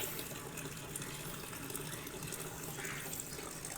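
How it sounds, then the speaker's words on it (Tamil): Water runs steadily from the tap of a rooftop tank, a constant close gushing flow that fills the whole short stretch without any talk. "அப்படியே ஆன் பண்ணால் தண்ணி வரும் வர ஆரம்பிச்சிச்சு"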